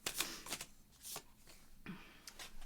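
Tarot cards being shuffled, a quick series of crisp riffling and flicking bursts close up, several short rustles in an uneven rhythm with no talking.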